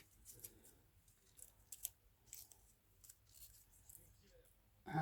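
Scissors snip artificial flowers up close, a few faint, quiet cuts spaced apart in a calm room, with a louder rustle at the end.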